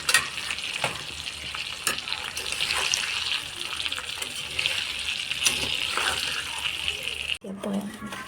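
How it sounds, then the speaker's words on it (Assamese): Ground spice paste fries in a modest amount of oil, giving a steady close hissing sizzle with occasional stirring scrapes, then a sudden drop to quieter sizzling near the end. "এতিয়া মই পিচি লোৱা মছলাখিনি দিম ইয়াতে।"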